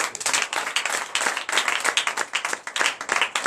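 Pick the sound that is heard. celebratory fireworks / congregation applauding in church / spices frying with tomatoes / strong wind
congregation applauding in church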